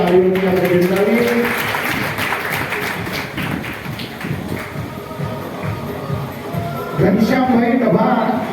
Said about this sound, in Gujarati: તાળીઓથી આપણે બિરદાવીએ.